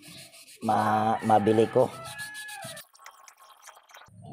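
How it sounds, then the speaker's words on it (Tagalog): Fine sandpaper rubbed by hand in a home repair job, heard as soft, faint scraping strokes that follow a short stretch of close talking. "Lilihain muna natin ito sa medyo pino na liha."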